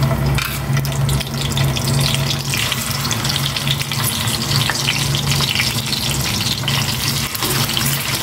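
Dalagang bukid fish fries in hot oil, a dense, loud, continuous crackling sizzle with spattering pops throughout and no talk.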